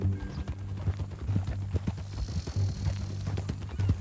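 Horse hooves in the video game Red Dead Redemption 2 clip-clop at a steady walking pace, close and moderately loud, with a faint ambient background.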